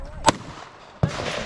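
A 9 mm handgun fired at a shooting range: two sharp, loud reports about three-quarters of a second apart, the second followed by a lingering echoing tail.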